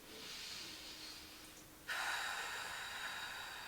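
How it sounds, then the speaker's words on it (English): Loud, deliberate breathing during a pelvic floor exercise: a long, hissing breath close to the ear, then a sharper, stronger breath that continues steadily. "I'm making loud breathing noises because I want you to be able to hear what I'm doing"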